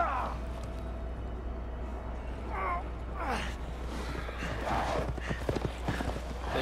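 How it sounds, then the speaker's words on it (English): Horse hooves clip-clop at a walking pace in a Resident Evil Village cutscene, moderately faint and irregular under a low rumble, with a few soft breaths and vocal sounds. "They ride horses."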